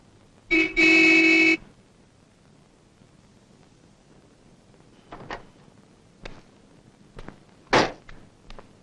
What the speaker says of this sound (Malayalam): കാറ് ഹോണടിച്ചാ വന്നൂടെ നിനക്ക്